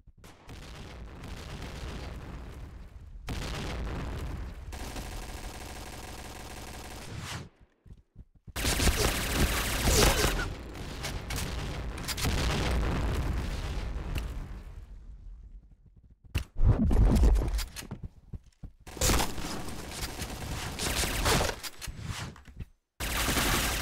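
Bursts of rapid gunfire and booming shots from the online shooter Point Blank, loud and sustained, with brief pauses between volleys.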